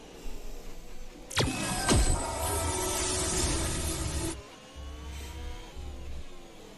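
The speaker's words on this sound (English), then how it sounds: "Joe, I'm going to get the safety car out for a minute." A safety car in a racing video game set in Spain whirs out with a sharp rising engine sweep and a sustained bright mechanical drone that cuts off abruptly, followed by a low idling rumble, alone without talk.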